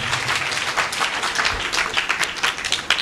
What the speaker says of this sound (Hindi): ताली बजा के प्रभु को स्तुति करो।